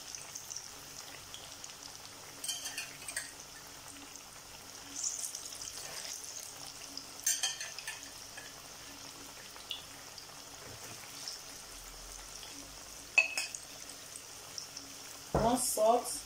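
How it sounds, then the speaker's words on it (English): Plantain frying in a pan sizzles softly and steadily, with faint crackles and pops breaking through now and then and a brief clatter near the end. "So fry this plantain until golden brown."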